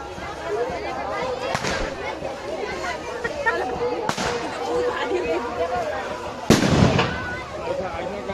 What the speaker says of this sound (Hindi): आतिशबाजी पटाखे थोड़ा दूर होकर के भैया आप लोग फोड़े